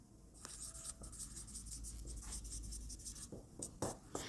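Marker or chalk strokes scratch across a board in a lecture room, quick irregular writing taps and scrapes, close but faint.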